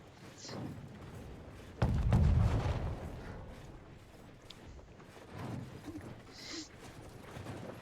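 Artillery shots lobbed from long range in a Conqueror's Blade siege match, one heavy thump standing out near the start amid fainter booms, with a commentator talking over the battle.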